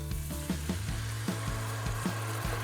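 Dry Italian white wine poured into a pan of cooking risotto rice, a loud steady sizzle with rhythmic stirring scrapes, close up and alone.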